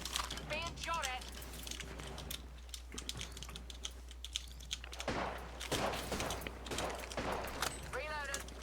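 Apex Legends gunfire, including a charge rifle, comes in scattered bursts of shots through the clip, heard under heavy, rapid keyboard typing and occasional talk.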